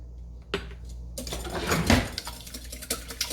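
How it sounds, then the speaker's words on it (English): Two eggs whisked with a fork in a bowl, rapid close clinking and scraping strokes in a quick irregular rhythm, louder after a brief first tap, with no voices. "Whisk it really, really good"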